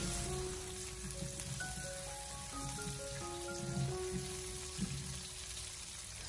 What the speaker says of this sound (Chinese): 接着再往里面添加少许的八角，还有几片的香叶，然后再继续的小火翻炒几下，把香料炒出香味